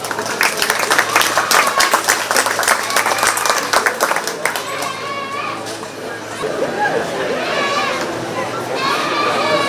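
A crowd claps at a 4-H/FFA youth goat show at the 2025 Shelby County Fair, brisk applause for about four seconds that fades as an announcer's voice and background chatter take over.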